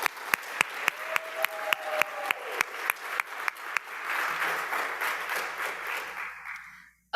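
Several loud, sharp claps ring out in a steady rhythm, then a crowd's applause at a community innovation event swells into a dense wash before cutting off abruptly.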